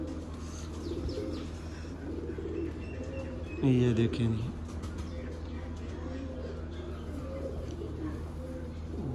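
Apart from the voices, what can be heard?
Teddy pigeons cooing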